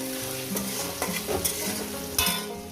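Onions frying in ghee for a chicken curry, a close crackling sizzle broken by a few sharp spatula scrapes and knocks against the pan, brief and without speech.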